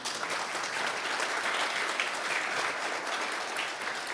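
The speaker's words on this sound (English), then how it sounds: "can I ask you for the clap to our teachers" Steady, dense audience applause for teachers at an award ceremony, even in level throughout with no voices over it.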